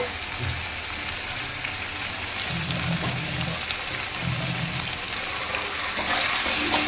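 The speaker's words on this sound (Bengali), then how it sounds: "আমাদের রান্নাটা এখনও দেরি আছে, সবে হালকা হালকা একটু ফুটছে" Chicken curry gently simmering and sizzling in a pan, a continuous broad crackling hiss with small irregular pops, steady and close.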